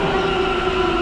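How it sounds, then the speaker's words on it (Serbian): Istanbul metro train running steadily and loudly nearby, a continuous rumbling hum with a strong tonal whine from the motors, no talk. "Ovo je metro."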